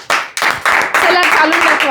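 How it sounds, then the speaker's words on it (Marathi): A group of people clap together in a few quick, close bursts that merge into loud, sustained applause. "आपण सगळेजण टाळ्या वाजवूयात एकदा."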